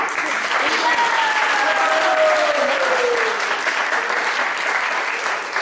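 Audience applause for two Sunday school classes at a summer graduation, dense steady clapping from a crowd throughout, with a voice briefly rising over it in the middle.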